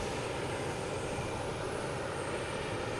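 JetBlue airliner in a special livery passing at Boston Logan Airport, a dense, even jet-engine roar filling three seconds without change, fairly near and alone.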